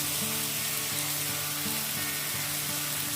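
Mustard oil sizzles steadily in a pan of bottle gourd and prawns, a continuous close frying hiss with soft bubbling and no talking.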